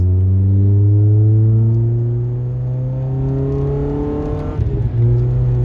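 A 2012 Mitsubishi Lancer SE AWD with a CVT accelerates through paddle-shifted gears, its engine note rising steadily and loudly from inside the cabin, then dropping sharply at a shift before climbing again.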